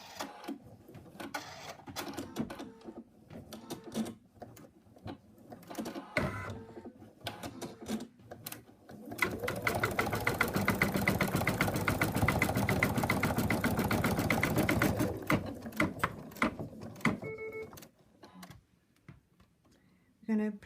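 A sewing machine stitches fabric in short bursts, then runs in one long, steady, loud stretch of rapid mechanical whirring and needle clatter before stopping. A person talks quietly in the gaps between bursts.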